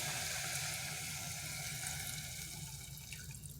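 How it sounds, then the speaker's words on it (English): Water poured slowly into a pot of bacon grease, meat and vegetables, giving a steady close broadband rush that holds evenly and eases slightly toward the end. "I'm only adding enough water to come just right at the top of the meat and vegetables."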